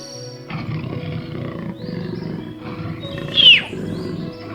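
A leopard in the African savanna gives low, rumbling roars in several rough bursts, close and loud, with a brief bird chirp cutting in near the end.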